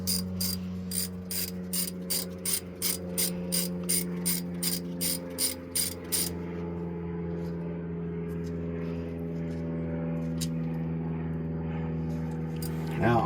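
A hand ratchet loosens the bolts on the rear differential cover of a 1993 Chevrolet K1500 pickup, giving quick bursts of close, sharp clicking for the first half, then a steady low hum.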